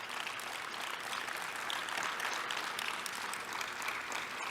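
A round of applause at a congress session, a large audience clapping in a steady, even roar of hands, fairly distant and sustained throughout.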